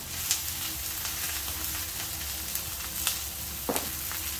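Carrots and radishes fry in a pan with a dense, steady sizzle at close range, broken by a few soft clicks and stirring taps.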